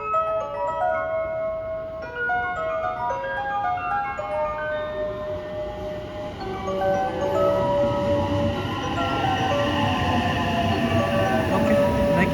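A JR regional rapid train between Osaka and Kyoto rolls along with a steady rumble that grows louder, while a bright melodic chime sounds over it at first.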